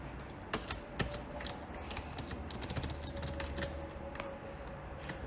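Computer keyboard keys pressed for select-all and copy shortcuts while editing in Google Docs, a handful of sharp clicks and taps standing out over a steady background hum.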